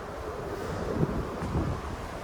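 Strong wind roars steadily across the open deck of a cruise ship at sea, buffeting the microphone, with a broad rushing wash and the sea audible underneath.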